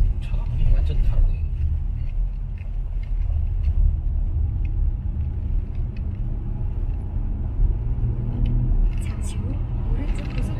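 Kia Sportage LPG SUV driving on a road, with a steady low engine and tire rumble inside the cabin while people talk over it.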